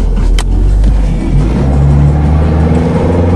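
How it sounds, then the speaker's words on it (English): A car stuck in snow on a winter cold start, its engine held at a loud, steady, droning rev as one tire spins and smokes rubber, close and continuous with a brief higher whine near the start. "still burning the same tire"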